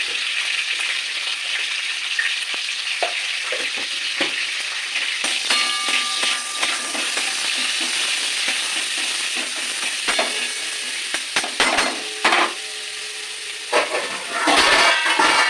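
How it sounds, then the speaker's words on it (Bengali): Vegetables seasoned with salt and turmeric fry in hot oil in a pan for a dalia khichdi, giving a steady broadband sizzle with intermittent clinks and stirring scrapes. "সবজিগুলো আমি ভেজে তুলে দেবো সব ভাজা হয়ে গেছে"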